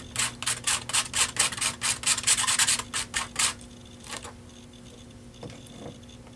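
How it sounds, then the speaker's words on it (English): A spatula scrapes paste across a stencil in a quick, rhythmic run of close rasping strokes, then slows to a few scattered scrapes and soft handling noises. "Just going to scrape some of that up on my spatula, kind of place my stencils down."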